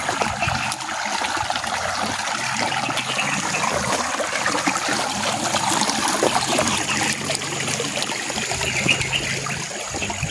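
Stream flowing beside a riverbank, a steady close trickling and rushing of water that runs without pause, with no voices.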